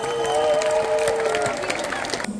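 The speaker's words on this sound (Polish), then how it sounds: "Wielkie brawa tutaj." At a charity event in the PGE Zgorzelec Arena, a crowd claps loudly in a short burst over sustained background music tones, and the applause tapers off quickly.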